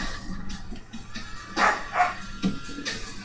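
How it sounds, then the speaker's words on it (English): Dogs barking in a few short yelps and barks at moderate distance, set against background noise from a Halo 3 game session. "I'm very sorry about the dogs."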